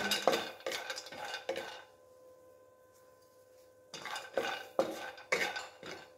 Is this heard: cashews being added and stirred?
yes